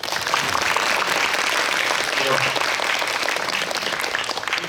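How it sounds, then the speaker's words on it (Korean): Audience applause fills a cinema hall in honor of a film's director, dense, loud and sustained clapping from a large crowd that continues without pause from start to finish. "영화를 탄생시킨 감독님에게 박수 한번 드리고 싶네요."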